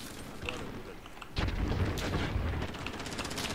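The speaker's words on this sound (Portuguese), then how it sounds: "Estão atirando em mim." Gunfire in the online shooter Call of Duty Warzone: a muffled burst of shots and booms that thickens midway into sustained firing, heard at moderate distance.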